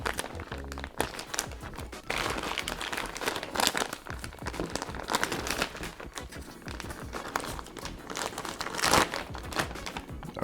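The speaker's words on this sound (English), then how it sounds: "let's open it up. Very simple with a tear notch." A military ration package is torn open at its notch, making continuous crinkling and crumpling of plastic packaging at close range, with louder rustles at a few points.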